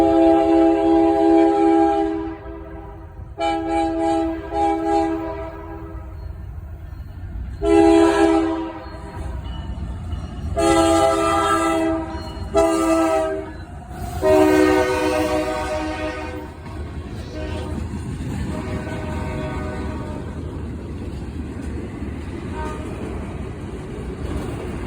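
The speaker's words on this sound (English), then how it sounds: "I would catch NS eastbound 126, which was a very short train today" A short Norfolk Southern eastbound freight train passes in rural Virginia, sounding loud multi-tone horn blasts in several bursts, then a steady rumble of rolling cars close by.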